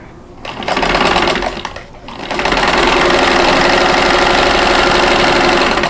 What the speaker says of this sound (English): sew from the top center to the bottom right hand corner